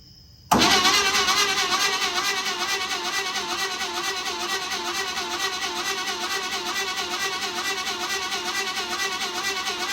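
A locked-up Chevy 265 V8 engine in a Chevrolet Bel Air turns over on its starter, a loud steady cranking that begins abruptly and churns on rhythmically without catching.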